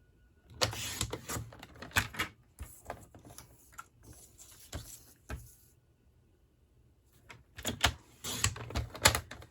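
Cardstock for a Stampin' Up! Trucking Along gift box is cut in short bursts of crisp clicking and slicing strokes, separated by quiet pauses, heard up close.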